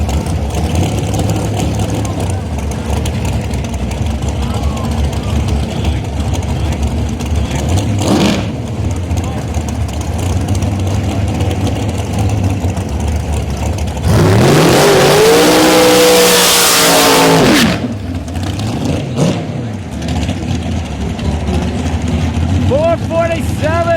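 A pair of dragstrip rails at a PDRA race at Motorsports Park Benson: a steady engine rumble swells into a loud, roaring burst of hard acceleration midway that fades back to a distant drone, with voices in the background.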